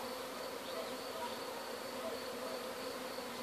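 Honey bees swarm and buzz steadily around an open hive, a dense continuous drone close by with no pauses, filling the whole stretch without any talk over it.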